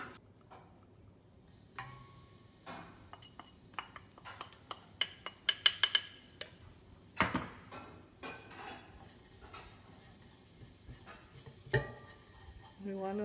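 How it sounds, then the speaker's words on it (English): Curry powder frying in oil in a pot for Trinidad curry channa, with a soft sizzle under scattered clinks and scrapes of a spoon against the pot and a few louder knocks. "And we're going to fry our curry powder"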